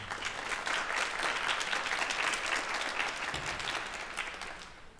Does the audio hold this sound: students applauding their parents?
yes